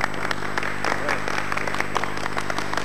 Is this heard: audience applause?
yes